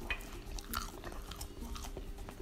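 Faint crunchy crackles and scraping of crispy rice (pegao, the crust from arroz con gandules), close and quiet, with no speech.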